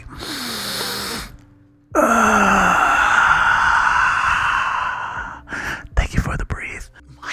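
Soft, close breaths blown straight into a sensitive microphone, a long airy exhale followed by another sustained breath, then a few quick breathy puffs and sniffs near the end, with no speech.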